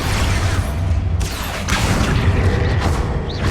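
Confringo and Expulso spell explosions in Hogwarts Legacy, a loud, dense booming blast with rumbling bursts that fill the whole clip.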